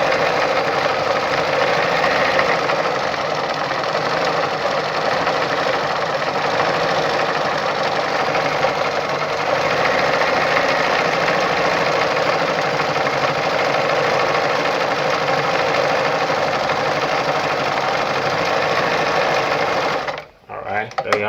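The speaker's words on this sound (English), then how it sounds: "So if I'm sewing to 10 now," A Brother ZU2-B680 sewing machine runs a stitch pattern in one continuous, steady, close mechanical whirr with a rapid needle rhythm for about twenty seconds, then stops abruptly near the end.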